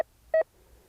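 Golden Mask 5+ metal detector giving a short, clean electronic signal tone, with a brief beep and then a second slightly longer one in a quiet outdoor setting.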